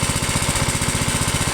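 A Bolens lawn tractor engine runs close by, loud and steady, with a fast, even thumping beat under a rough mechanical rattle and no voices.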